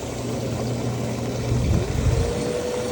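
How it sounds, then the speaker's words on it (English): A hot tub pump drives air through the spa jets, a steady low rumbling churn of bubbling water that grows somewhat louder and rougher partway through, with no voices. "Then you have air going through the jets."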